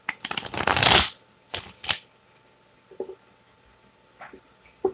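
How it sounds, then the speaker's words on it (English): Tarot cards being shuffled by hand in a quiet room, a long riffling burst followed by a shorter second shuffle, then a few faint soft taps and handling sounds, with no talking. "Just going to give them a quick shuffle."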